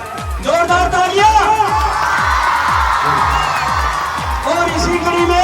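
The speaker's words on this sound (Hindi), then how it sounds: "जोरदार तालियां" A crowd claps and cheers at an Independence Day honour ceremony at a school in Bidasar, with rapid thumping beats, probably a drum, running steadily underneath the loud, sustained applause.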